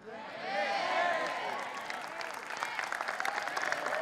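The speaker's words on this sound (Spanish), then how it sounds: "Un aplauso." A church congregation breaks into applause, a dense wash of many hands clapping that swells, holds, then thins into scattered claps, with a voice speaking over it.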